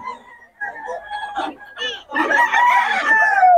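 Roosters and hens at an outdoor market in Bocaue, crowing and clucking close by, with a long crow stretching over the final seconds and faint voices mixed in.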